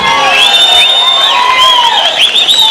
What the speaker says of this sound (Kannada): ಇದಕ್ಕೆ ಚಪ್ಪಾಳೆ ಬರಬೇಕು